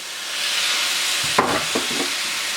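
Vegetables for vegetable japchae stir-frying in a hot pan, a steady close sizzle with a few scraping stirs of a utensil near the middle.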